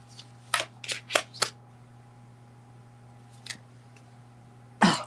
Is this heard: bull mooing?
no